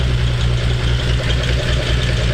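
An idling Mitsubishi 3000GT engine runs close and steady in a loud low hum, with a faint whirring belt noise mixed into its even rumble and no talk.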